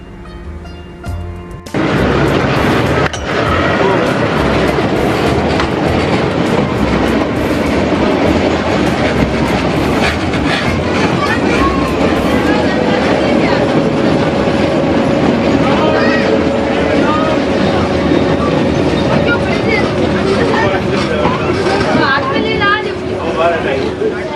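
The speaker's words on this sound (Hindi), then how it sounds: "फुलाद में हमारी क्रॉसिंग होती है मावली से मारवाड़ की ओर जा रही मीटर गेज पैसेंजर से" A meter gauge passenger train crosses at Fulad station in Rajasthan in intense summer heat. A loud, steady rumble and clickety-clack of wheels runs throughout, with a brief squeal and people talking nearby.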